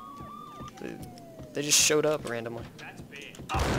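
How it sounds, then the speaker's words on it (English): Police car sirens wail in the Max Payne video game, rising and falling tones mixed with game effects and clanks, while someone talks over them. "Police cars!"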